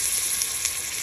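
Minced meat hitting hot oil with fried onion in a pan, a bright hissing sizzle that holds steady and close for a moment, with no voices over it.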